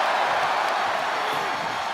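Arena crowd cheering during a WWE 2K25 casket match, a broad continuous roar of many voices held at an even level throughout.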